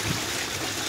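Water overflows from a borewell in Bangalore, a steady close rushing trickle that carries alone through a brief moment.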